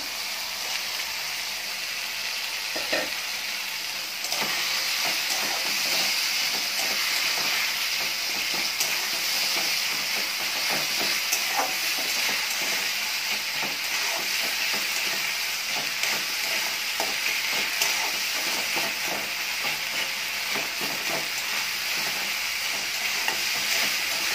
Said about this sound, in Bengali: এরপরে আমি বেটে রাখা মশলাগুলো দিয়ে দেবো।